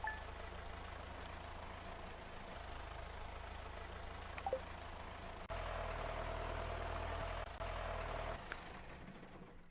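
A tractor engine in the video game Stardew Valley runs with a faint, low, steady idling drone that shifts slightly in pitch partway through, with no other sounds on top.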